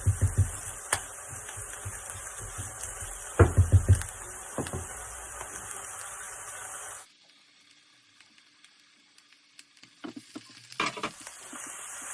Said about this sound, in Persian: خب پیازا تفت خوردن یه مقدار. الان من سیرم اضافه میکنم.